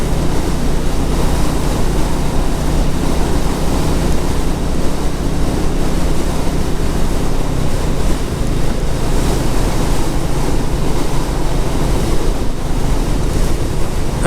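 Steady wind blows and buffets the microphone on a chilly, breezy hilltop around 1,367 feet up in North Wales, a constant loud roar with no voices.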